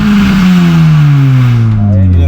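A tuned Honda Jazz GK5 with its rev limiter deleted gives a single loud, close engine rev whose droning tone falls steadily as the revs drop over about two seconds.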